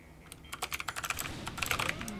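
Typing on an MSI Vigor GK50 Elite mechanical keyboard: a quick run of crisp, clicky keystrokes, fairly close and moderately quiet, with a brief pause before a second burst.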